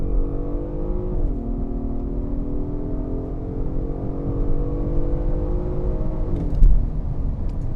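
A 2025 Genesis G80 pulls away hard under launch control with traction control off. The engine note is loud and close, rising steadily, dipping briefly at each upshift and then climbing again.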